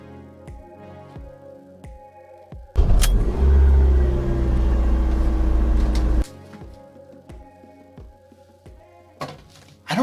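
A car engine roars in a loud revving burst lasting about three seconds, rising from a quieter background of scattered knocks and thumps that continue afterward.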